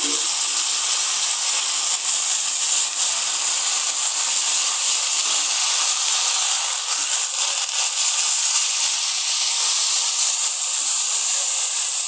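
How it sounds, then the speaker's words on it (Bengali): Ginger-cumin paste sizzling in hot oil for a fish dish, a steady, loud, bright hiss and crackle running unbroken and close for the whole stretch, with no voices over it. "আমাদের জিরা কালা হয়ে গেছে, দিয়ে দেব আদা জিরা বাটা।"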